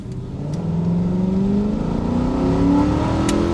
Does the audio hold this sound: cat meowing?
no